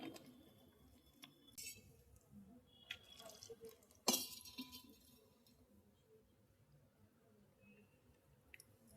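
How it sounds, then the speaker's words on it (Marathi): Light clinks and taps of a utensil against a bowl while flour batter with cumin, salt, soda and water is mixed, faint scattered strikes with one sharper knock. "मिक्स करून घेऊया आपण पीठ."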